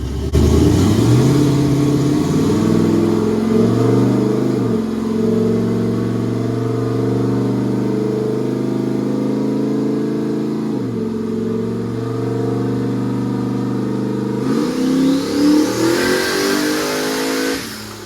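A Chevrolet S10 drag truck with about 9 PSI of boost revs hard through a full dyno pull. The engine note climbs steadily and loudly, drops briefly at a shift, rises again, then sweeps up once more near the end, with no talking.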